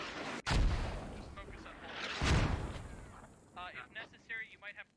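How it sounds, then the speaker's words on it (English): A grenade blows up in a military shooter video game: two heavy, booming blasts about two seconds apart, each with a rumbling tail, followed by faint radio-like voices near the end. "Grenade takes out one more."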